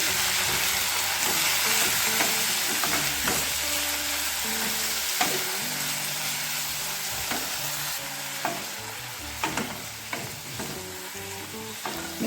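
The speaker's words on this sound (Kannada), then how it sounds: "ಈಗ ನಾವು ಕಟ್ ಮಾಡಿ ಇಟ್ಕೊಂಡಿರುವಂಥ ಮೆಂತ್ಯ ಸೊಪ್ಪು ಹಾಕೊಳ್ಳೋಣ ಚೆನ್ನಾಗಿ ಫ್ರೈ ಮಾಡ್ಕೊಳ್ಳೋಣ" Chopped fenugreek (methi) leaves fry in a pan for a methi gojju. A steady, close sizzle runs throughout, broken by repeated scraping and clicking as the leaves are stirred.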